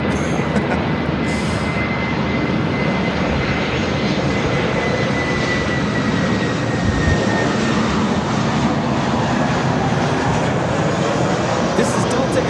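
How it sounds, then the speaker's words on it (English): A Delta Airlines Airbus A319 jet arrives at LAX from Houston, its loud, steady engine roar filling the scene without a break. "This is Delta Airlines 1143 coming in from Houston Intercontinental on the A319."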